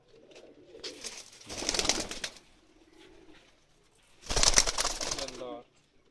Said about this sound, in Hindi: ये सारे बाजी वाले कबूतर हैं